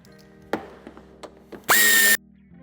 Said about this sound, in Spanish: Retiraremos también esta parte de tapizado, quitando el tornillo de la parte superior.